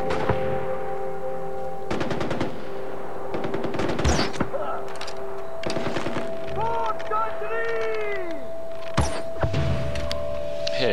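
In the video game Far Cry 4, several short bursts of machine gun fire ring out close and loud, separated by gaps, while players talk over the shooting and other game sounds.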